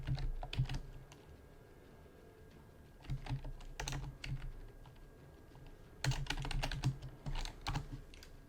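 Rapid bursts of computer keyboard typing and button clicks come in three clusters separated by quieter pauses, close and fairly loud, with no talking.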